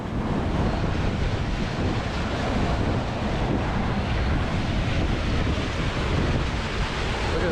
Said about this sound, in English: The water's flowing out of there really fast